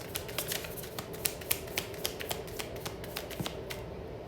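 Tarot advice cards being shuffled and drawn, a steady run of quick, crisp card riffles and flicks up close with no talking.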